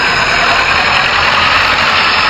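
An HMT 5911 tractor engine runs steadily close by, a loud, constant diesel drone with no pauses and no voices over it.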